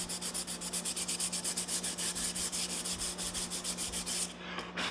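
Sandpaper rubbed back and forth over the contoured transitions of a wooden guitar neck, a steady rhythmic scratching of about two strokes per second, close and loud, alone with a faint hum beneath, stopping near the end.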